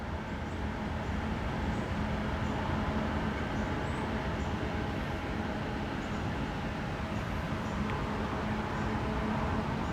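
A Union Pacific local train rolls past on the Spine Line with a steady, continuous low rumble and rail noise, close and unbroken for the whole stretch, with no voices.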